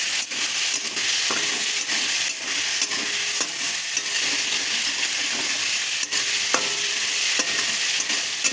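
Spices for a tilapia and eggplant curry sizzle loudly in a pan after water is added, a constant close hiss broken by the periodic scrape and clack of a stirring spoon.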